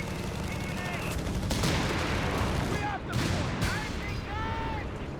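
Artillery bombardment of a base in the Company of Heroes 3 strategy game, a steady dense roar of explosions and gunfire mixed with whistling shells, while a voice talks over it.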